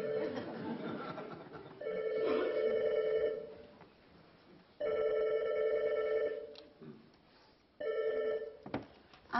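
Old-style telephone ringing in a French theatre performance: three separate bursts of electronic ringing with pauses between, fairly loud, with faint audience sounds in the gaps.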